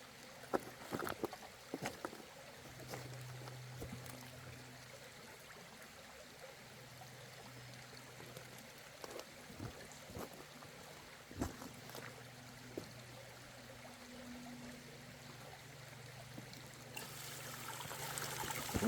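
A small water pump works on a dried-up stream bed during gold prospecting, a low steady hum that comes and goes over faint trickling water and occasional knocks, with no talk.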